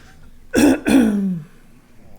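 Two quick, harsh throat-clearing coughs up close, followed by a brief rasping trail, then quiet.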